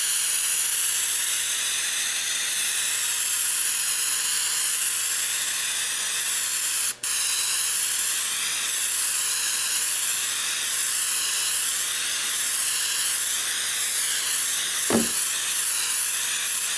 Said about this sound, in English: I'm going to hold it so my overspray goes away from the vinyl when I spray it